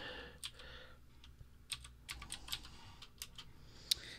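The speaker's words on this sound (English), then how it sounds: "I'm going to type in, well, I gotta go, let's call it Delicate Arch." Light tapping on a computer keyboard, a quiet irregular run of individual keystrokes with short pauses, close and alone without talk.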